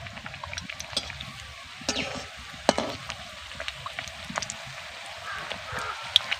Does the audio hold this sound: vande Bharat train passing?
no